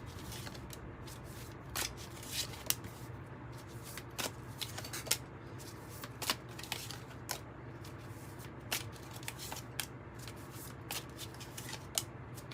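Tarot cards being shuffled and cut by hand, a soft steady riffle with repeated crisp snaps and taps over about twelve seconds, close and quiet, no voices.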